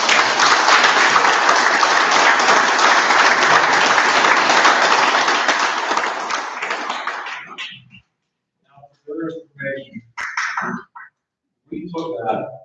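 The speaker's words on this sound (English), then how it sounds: "So I'd like to applaud them." Applause at a board meeting: a full room clapping steadily and loudly for several seconds, then fading out, followed by a few scattered sounds and brief talk.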